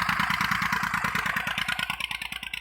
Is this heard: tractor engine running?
yes